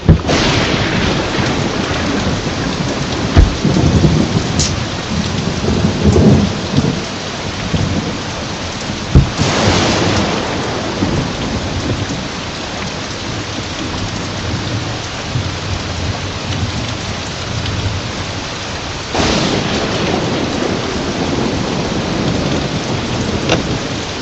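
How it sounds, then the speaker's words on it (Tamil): Heavy rain pours steadily and loudly throughout, with rolling thunder rumbling up twice. No one speaks. "இவ்ளோ மழை பெய்யுது"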